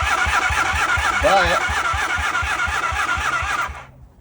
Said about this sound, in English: it's cranking with the electric start, but no sparky